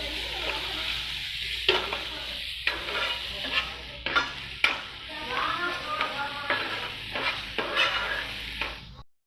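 Capsicum, tomato and onion cooking in a pan: a soft steady sizzle with repeated scraping stirs at a near distance, irregular clatters of the spoon, fading out at the end.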